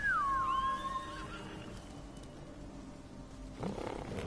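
A horse in the Ghost of Tsushima video game gives one loud, close whinny with a wavering, falling pitch, then fades into quiet ambient sound with a faint rustle at the end.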